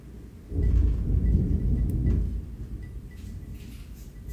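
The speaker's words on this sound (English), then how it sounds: "Did you hear the thunder?" A deep, rumbling roll of thunder swells up loudly, holds for a couple of seconds, then fades into a softer lingering rumble with light rain beneath.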